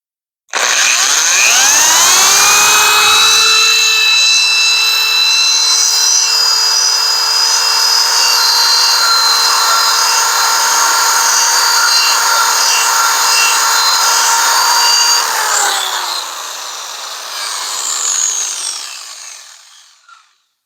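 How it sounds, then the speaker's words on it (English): A polishing buffer with compound works a paint run on a car finish, a loud steady whine of the spinning pad that holds nearly constant, then winds down in pitch near the end with brief rubbing before fading out. "hit the buffer here a little bit"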